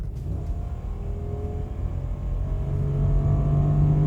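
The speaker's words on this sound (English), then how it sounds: "It delivers 300 horsepower and 295 pounds-feet of torque and allows you to do this in just 4 seconds." A 1998 Cadillac STS with a 300-horsepower Northstar V8 accelerating hard from 80 to 120: a steady engine drone and rumble rising in pitch and loudness over four seconds, heard from inside the car with no talking.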